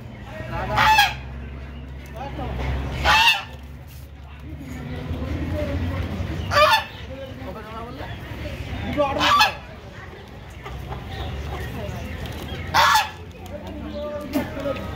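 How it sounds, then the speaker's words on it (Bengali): Geese honk loudly in repeated bursts at a busy poultry market holding ducks and chickens, with clucking fowl and crowd chatter filling the gaps between honks. "তার সাথে রাজহাঁস আছে।"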